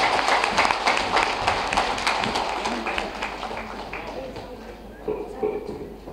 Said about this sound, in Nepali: एकपल्ट महासचिव कमरेडलाई स्वागत गर्दै ताली बजाउँ है सबैलाई।